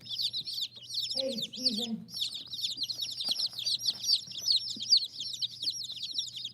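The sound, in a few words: chickens clucking in the yard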